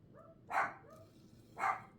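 Two sharp dog barks about a second apart, moderately close, indoors with quiet room ambience and no talking.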